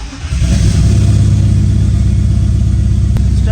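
A turbocharged BMW E46 engine catches and revs up, settling into a loud, steady, close mid-range drone with a faint click near the end.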